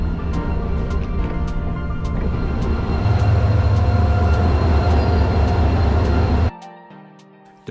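Loud, steady rumble of a Malaysian train running on the rails to JB Sentral, dense and continuous, then cutting off abruptly near the end to a quieter hum.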